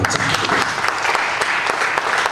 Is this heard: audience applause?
yes